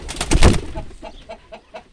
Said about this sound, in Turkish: Güvercin çıktı kümeste.